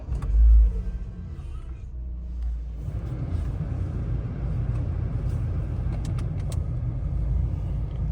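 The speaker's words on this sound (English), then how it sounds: "so this is how the engine sounds." A car engine idles steadily with a low, continuous rumble after a brief start-up surge, close by and fairly constant throughout.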